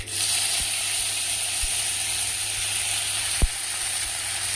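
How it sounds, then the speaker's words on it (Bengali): Cumin and mustard seeds tempering in hot oil, giving a steady, bright sizzle throughout, with a few soft pops and one sharper crackle near the end, no voices. "এই যে জিরে আর সরষা দেব ফোড়ন।"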